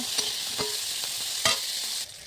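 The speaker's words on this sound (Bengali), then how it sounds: "নুন দিয়ে আমি ফুলকপিটা ভালো করে একটু লাল লাল করে ভেজে নেব" Cauliflower florets frying in hot oil with turmeric and salt, a steady bright sizzle throughout with a few louder spatters and stirring clicks, close up, no talking.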